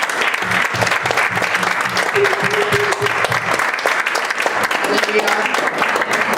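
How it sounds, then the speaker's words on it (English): Church congregation clapping steadily through the whole stretch, loud and continuous, with voices and a few sustained tones sounding underneath. "Let's clap for Celeste."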